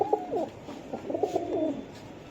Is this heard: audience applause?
no